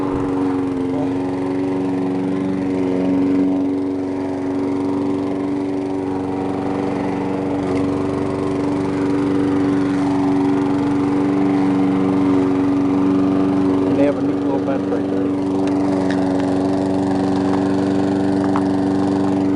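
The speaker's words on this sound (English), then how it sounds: "so I thought I'd work it off by mowing the lawn" A lawn mower engine drones steadily and loudly throughout, with a brief remark spoken over the hum.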